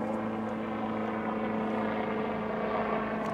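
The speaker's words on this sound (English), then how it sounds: "we're just gonna let this airplane pass" A propeller airplane passes overhead, its steady engine drone with a constant low hum filling the whole stretch, fairly loud and alone, with no talk over it.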